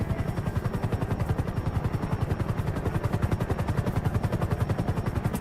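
A helicopter flies in GTA V, its rotor chopping in a fast, steady rhythm of evenly spaced thumps over a low engine drone, loud and close throughout, with no talking.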